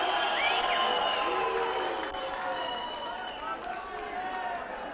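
A boxing crowd in a ring hall reacts loudly, a dense continuous mass of shouting, whistles and jeering from many voices, with a narrator speaking over it.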